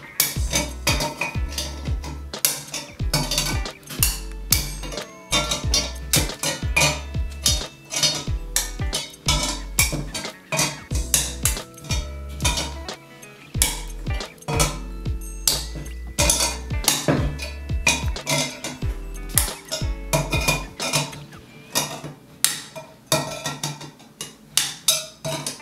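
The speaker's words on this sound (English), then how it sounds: "apply firm pressure and rock the pliers inward" Channel-lock pliers rock a snap ring into place on a ZF 5HP24 heavy-duty input drum. Sharp metallic clicks and clinks come in an irregular series of taps, close and distinct, with no talking.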